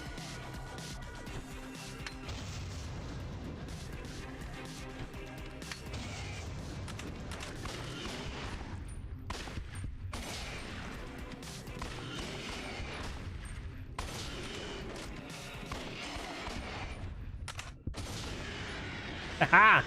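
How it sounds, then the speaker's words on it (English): Video game combat in Judgement, with dense overlapping gunfire and bursts of explosions under a continuous loud game soundscape, ending in a heavier blast. "Throw grenade."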